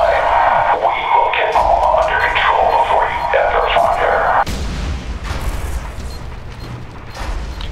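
Gunfire and heavy booming blasts from the shooter game F.E.A.R. 3, loud and continuous for several seconds before dropping to quieter rumbling combat noise.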